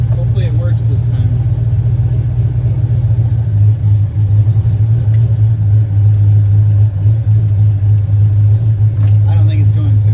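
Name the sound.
turbo Foxbody Ford Mustang engine revving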